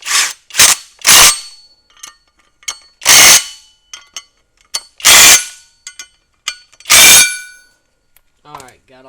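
A ratchet runs down bolts on a Honda Rincon ATV during a 2-inch lift kit and disc brake conversion, heard as several loud, close bursts of rapid clicking separated by pauses, with smaller clicks and metal handling between them.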